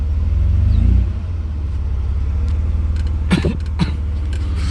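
A warmed-up 1991 Mercedes 300E engine idles steadily with the air conditioning running, a continuous low rumble with a slight swell at the start, recorded close by, with a few brief clicks and knocks near the end.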